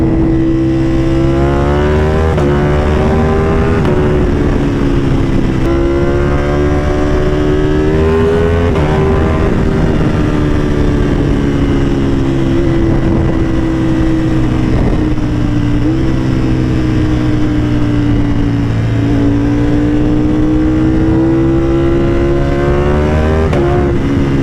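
A Ducati Panigale motorcycle engine roars loud and close while riding, its pitch rising and falling through repeated throttle swells and gear changes over a continuous deep drone.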